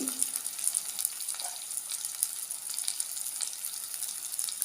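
Turmeric and chili powder sautéing in a pan for vala fish curry, a steady close hiss and sizzle with faint crackles running throughout, no voice over it.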